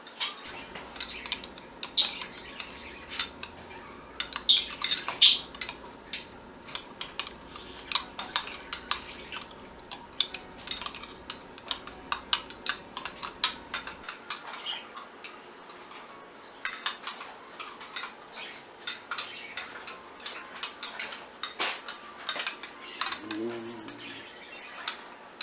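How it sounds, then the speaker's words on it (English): A spoon stirs and mixes ingredients for keto Italian bread in a bowl, making quick, close clinks and scrapes in an irregular rhythm with a softer mixing sound later on. "Just take your stuff, stir it in, mix it up."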